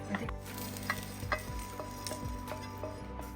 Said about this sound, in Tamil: தனியா நம்ம சேர்த்துக்கிறோம். இப்போ நம்ம இதை பொன்னிறமாக வறுத்துக்கலாம்.